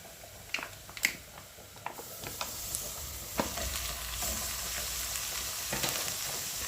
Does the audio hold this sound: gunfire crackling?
no